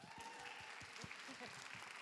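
Church congregation at a young-adults Sunday worship service clapping, a steady faint patter of many hands continuing throughout, with a voice briefly audible over it.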